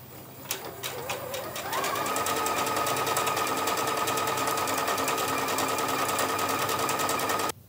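A sewing machine runs up to speed under foot control and stitches a decorative freeform stitch on fabric, a steady rapid mechanical chatter that holds evenly for several seconds before stopping abruptly.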